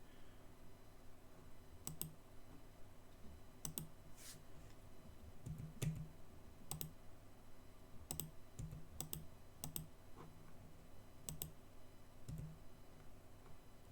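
Computer keyboard keys are pressed to test game controls. The clicks are quiet, close and come in scattered single taps and small bursts over a faint steady background.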